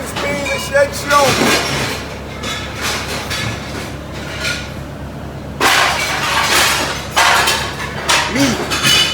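A scrap train rolls past near an Anvil scrap yard, loud clanking and rumbling with repeated metallic bangs and bursts of noise, close by.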